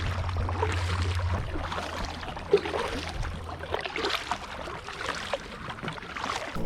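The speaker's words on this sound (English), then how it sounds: "I've been paddling now for a little over 20 minutes" A boat is paddled upstream on a slow river during a bass fishing trip, soft watery strokes and drips sounding steadily and close, with a low rumble in the first part.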